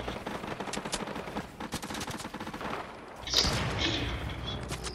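Gunfire in Fortnite, rapid bursts of shots crackling continuously throughout, with a heavier impact boom near the end, fairly close and dense.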